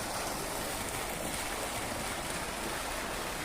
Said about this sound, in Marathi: इलेक्ट्रिक मोटर चालू आहे, त्याचा रिव्हर्स वॉटर इकडे जे जास्त होते ते इकडे सप्लाय केलेलं आहे विहिरीमध्ये